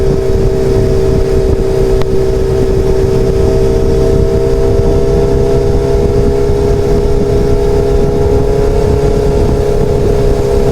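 A 2011 Honda 600 Hornet motorcycle's engine drones loud and close while riding, holding a steady revving tone with a slight pitch drift, under constant wind buffeting.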